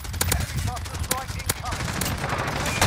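Rapid M91 rifle fire in a first-person shooter match on the Shipment map, sharp repeated shots over a dense game mix with brief voice chatter.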